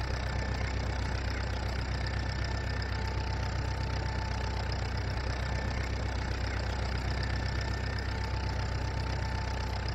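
A tractor engine in Farming Simulator 19 runs steadily and loudly for the whole stretch, a constant droning rumble with a faint higher whine and no talking.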